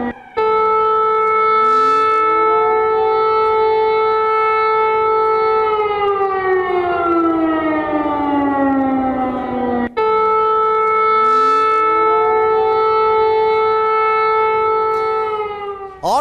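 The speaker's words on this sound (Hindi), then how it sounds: "एयर सायरन की आवाजें भी पूरे शहर में गूंज रही हैं" Civil defense air raid sirens wail across a city during wartime attacks in Donetsk, a loud steady rising tone that holds, then slides downward, and repeats in a second cycle, with no voices.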